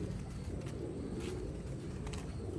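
Black-faced Sialkoti pigeons coo softly on a rooftop, a low continuous burbling drone with faint scattered background noise and no talking.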